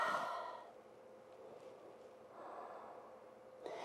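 A soft breath out during a foam-rolling stretch for hikers, a quiet airy exhale followed by a fainter second breath and a small rustle at the end, in a calm room with no speech.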